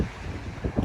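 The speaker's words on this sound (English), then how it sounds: "it's very windy" Wind buffets the microphone in low rumbling gusts, strongest near the end, with no voices heard, on a cold day near the Tamar Bridge.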